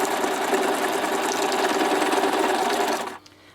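A sewing machine runs fast and continuously, doing free-form crazy stitching on paper, a loud steady whir with rapid needle chatter that cuts off abruptly near the end.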